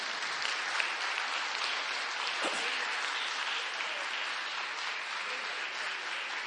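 Journalism students applaud at a university event, a steady dense wash of clapping from a crowd that holds evenly for several seconds with no voices over it.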